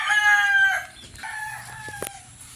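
Super White gamefowl roosters crowing in a backyard, with a loud near crow followed by another crow and scattered clucks from the young stags over a quiet low background.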